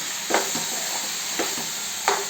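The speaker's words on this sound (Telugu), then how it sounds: "సొరకాయ ముక్కలు ఇట్లా కలుపుకోవాలి" Pieces of bottle gourd being stirred in a pan for a curry: three distinct scraping strokes of a spoon over a continuous soft sizzle, close up and with no talking.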